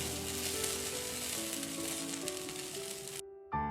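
An egg fries on an Alientek HP15 heating plate with a steady, close crackling sizzle that cuts off abruptly near the end, with a faint background tone underneath.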